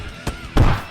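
Bottles being knocked over by a cat in a video game: two dull thuds, a short soft knock and then a louder, heavier clunk, close and with no talk.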